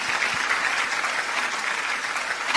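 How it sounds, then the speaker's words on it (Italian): A studio audience breaks into steady, dense applause to welcome guest Nino Murabito onto a live radio-TV show, the clapping sustained and fairly close throughout. "Facciamo un applauso per Nino Murabito."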